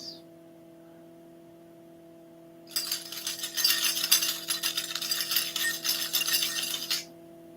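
A bunch of metal keys shaken close by indoors, starting after a quiet pause and jingling continuously for about four seconds with bright, busy clinks, then stopping abruptly; a low electrical hum runs throughout and nobody speaks.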